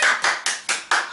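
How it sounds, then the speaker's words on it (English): Five sharp, evenly spaced hand claps from a single person, close and crisp with quick decays, during a live online toddler activity session. "Can you give yourselves a very big clap?"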